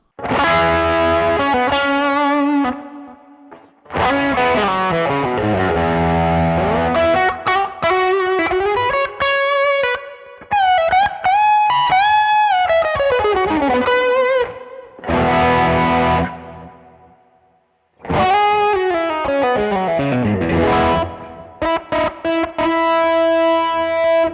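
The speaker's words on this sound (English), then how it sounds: "If I put on to the bridge pickup, it sounds like this." A bright, overdriven electric guitar on the bridge pickup through a Neural DSP Archetype John Mayer X preset plays lead phrases with long bends and sustained notes, loud and distorted, with brief pauses between runs.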